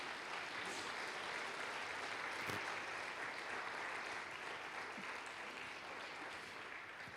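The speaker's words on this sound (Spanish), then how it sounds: "Dale un fuerte aplauso a él, iglesia." A church congregation claps together in a steady, even wash of applause that holds for about seven seconds at moderate volume, with no speech on top.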